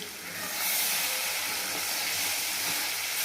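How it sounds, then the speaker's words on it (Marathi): Palak paneer masala paste fries with garlic in a hot pan, a loud, close, continuous hiss that swells after the first half-second and stays steady. "ती पण छान लसणासोबत आपल्याला फ्राय करून घ्यायची"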